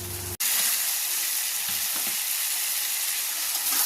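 Fried hilsa fish heads go into a pumpkin curry cooking in a pot, bringing a brief cut and then a loud, continuous close-up sizzle and hiss with faint stirring underneath.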